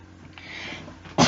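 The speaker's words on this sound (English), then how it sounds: "I'm so sorry about this cough" A woman with a lingering cough lets out a single loud, harsh cough right at the end, after a quiet stretch while she works on acrylic nails.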